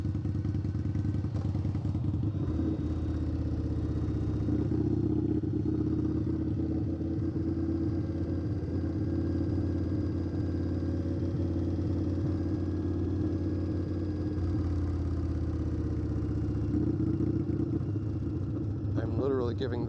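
A custom tuned Indian Scout Bobber motorcycle cruising at low throttle, a steady, deep engine rumble with occasional thumps and road noise, heard from the rider's position under intermittent talk.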